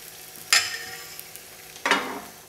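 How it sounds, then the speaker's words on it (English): Buckwheat crêpe batter hits a hot pan in two sharp bursts of sizzling hiss that fade into a quiet frying crackle. "And now pour a little bit of the batter in the pan and tilt it so the batter covers the entire surface."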